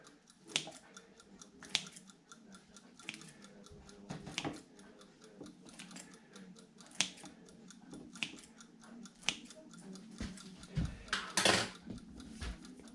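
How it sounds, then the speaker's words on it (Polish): Scissors snip into risen tomato bread dough in a string of quiet, close, evenly spaced cuts, with a brief louder rustle near the end. "Ja wezmę nożyczki i nożyczkami ponacinam w ten sposób."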